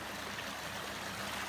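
Water in a desert stream near Borrego Springs runs steadily, a close, even rushing and trickling flow that continues without pause and with no voices over it.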